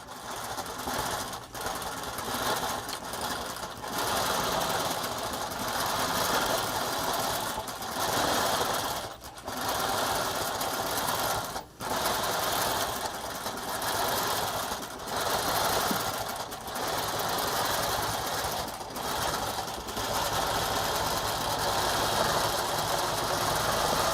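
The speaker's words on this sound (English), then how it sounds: "now I'll begin stitching. I could use the basting stitch, but I'm just going to use my 6 stitches per inch." A longarm quilting sewing machine stitches at 6 stitches per inch, its fast steady mechanical whir and needle chatter running close and loud for the whole stretch, with a few brief pauses and no talk.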